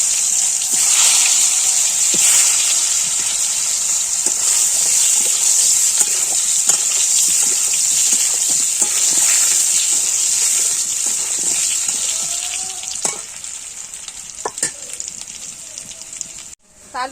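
Boiled potatoes fried with black cumin seed in a pan give off a steady, loud sizzle with faint scraping and occasional stirring clicks. The hiss runs without a break for most of the stretch and then trails off near the end.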